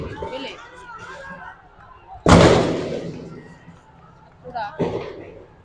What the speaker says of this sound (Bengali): এখান থেকে সাউন্ড গ্রেনেড ফেলা হচ্ছে।